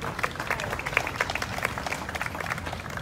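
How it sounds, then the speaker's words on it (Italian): An audience at a public presentation applauds, a dense, continuous patter of many hands clapping at moderate volume for the full stretch. "Monsignor Visco, e salutiamo con un applauso"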